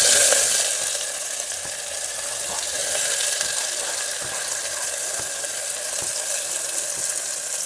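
Chopped onion with cloves and a piece of cinnamon fries in a pan, giving a steady, loud, hissing sizzle that runs without a break from start to finish, with no talking.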